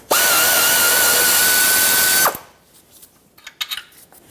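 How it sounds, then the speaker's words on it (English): A 12 mm socket on a power tool loosens a bracket bolt on a 1995-2004 Toyota Tacoma 2.4L four-cylinder. A loud, steady whir lasts about two seconds and stops abruptly, followed by faint clicks and handling noises. "Take a 12 millimeter socket, break this free, the bolt that goes through the front of this bracket."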